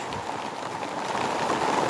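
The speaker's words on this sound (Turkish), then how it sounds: "şöyle dolu yağışı başladı şu anda" Hail pelting down steadily during an evening hailstorm, a dense, continuous patter of falling ice that stays loud and even, with no voices.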